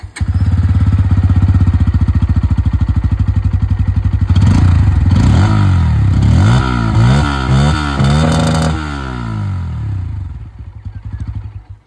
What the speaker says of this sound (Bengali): এবার আমি 3টে বাইকেরই যে এক্সস্ট সাউন্ড সেটা আপনাদের শুনিয়ে দিই